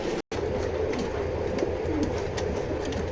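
Racing pigeons coo in a low, steady murmur close by, a continuous soft throaty burble with a brief dropout near the start and no voices.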